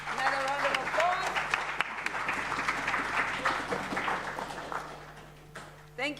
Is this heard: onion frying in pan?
no